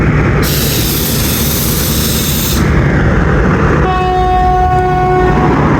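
Hazara Express train at Kot Najibullah railway station, a loud steady rumble of the train close by, then a long sustained horn blast over the running noise near the end.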